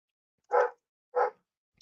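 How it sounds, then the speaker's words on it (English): Two sharp dog barks ring out about half a second apart, fairly close and clear against an otherwise silent background. "Stupid dogs barking."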